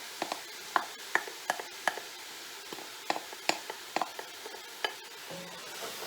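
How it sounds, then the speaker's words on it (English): Chopped baby bella mushrooms sautéing in a pan, with a quiet sizzle beneath a series of sharp utensil taps and scrapes as they are stirred, irregular and close, with no voices. "We're going to give that a stir. Mushrooms have a lot of moisture in them"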